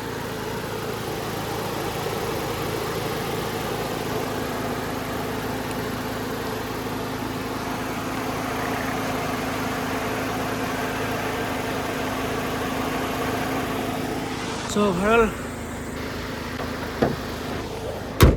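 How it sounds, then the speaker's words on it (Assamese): The radiator fan of a Maruti Baleno with about 51,000 km runs with the AC on, giving a steady, even whirring hum close by, followed by a few faint clicks and knocks near the end. "এচি চলি আছে গাইজ, সেইটো কাৰণে ৰেডিয়েটৰৰ চাউণ্ডটো ওলাইছে।"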